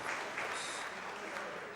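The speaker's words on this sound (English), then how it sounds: "A last round of applause for Larry Wheels" A crowd at the King of the Table 2 arm wrestling supermatch event applauds arm wrestler Larry Wheels. The clapping is brief and steady, a distant wash of hands through the whole moment.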